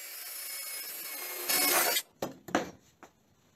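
A metal drill bit bores into a heated and cooled steel saw blade, a steady whir that swells into a harsh grinding burst, then several short rasping bites that taper off.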